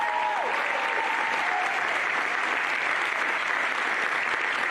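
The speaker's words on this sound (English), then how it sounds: "let's give these girls and their parents one more huge round of applause" Loud, sustained applause from a crowd in a high school gym, cheering a volleyball player at a Wes-Del versus Eastbrook game, steady and dense throughout with a brief whistle-like tone near the start.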